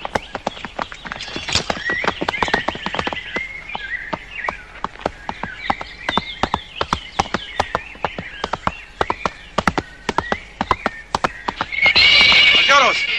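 A horse neighs and whinnies while its hooves clip-clop in a rapid, steady rhythm, loud and close, in a 1964 Mexican film scene with people talking over it and birds chirping faintly.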